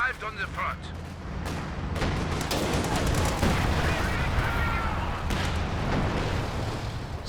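An ISU-152 heavy assault gun fires alongside other artillery in a Company of Heroes 2 3v3 battle on Oka River, producing booming blasts and dense explosions over continuous battle noise.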